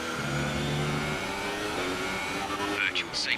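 Formula 1 race car engines in the F1 2018 video game whine loudly and steadily, shifting pitch as the cars accelerate, with a brief burst of higher-pitched sound near the end.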